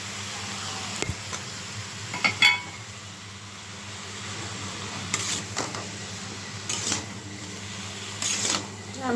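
Tomato goes into a pan of frying kachki fish curry with eggplant and potato, giving a low sizzle with intermittent stirring scrapes and clinks over a steady background hum.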